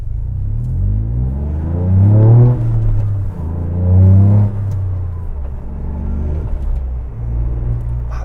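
A Toyota GR Yaris on a short test drive, its engine rising in pitch through each gear with distinct drops at the shifts, a steady cabin rumble underneath, no talking.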